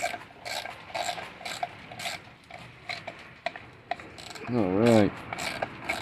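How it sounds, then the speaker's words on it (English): Ratchet tightening nuts on a DK Customs chin spoiler air dam, repeated short clicking strokes up close with rubbing and scraping in between, a brief voice heard. "I'm just going to tighten each one up a little bit at a time."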